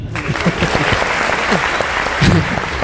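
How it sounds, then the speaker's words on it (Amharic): A stand-up comedy audience claps steadily and loudly throughout, a dense patter of many hands with faint voices mixed in. "አጨብጭቡለት"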